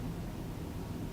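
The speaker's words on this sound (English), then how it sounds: "You can probably hear my air conditioner in the background" A faint, steady air conditioner hum runs evenly throughout, low and constant, with nothing else over it.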